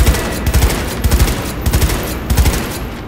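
Assault rifle gunfire in Cyberpunk 2077, loud and close, coming in several rapid bursts with short gaps between them and no talking over it.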